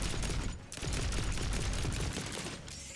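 Rapid plasma carbine fire in a roguelite first-person shooter, a dense, loud stream of crackling shots with a brief pause partway through.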